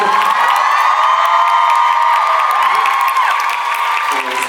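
Concert audience at a Korean musical performance cheering and applauding, loud sustained shouts and whoops with clapping blended in, a dense close crowd roar that holds steady throughout.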